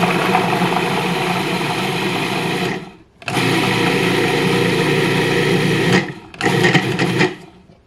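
A food processor pulses rinsed canned beans for falafel, a loud steady motor whir running for about three seconds, cutting out briefly, then resuming for three more seconds before a short stop and a final short burst.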